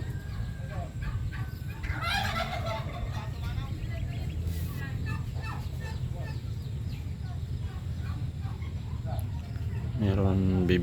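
Ducks on a Philippine farm call out in scattered loud honking quacks over a constant low background rumble, with a burst of calls at the start and again near the end.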